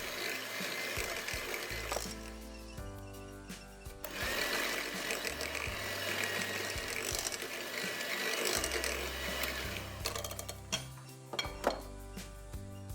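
An electric mixer beats eggs one at a time into red velvet cake batter, its motor whirring loudly and continuously, with clinks and rattles against the bowl and short pauses in between.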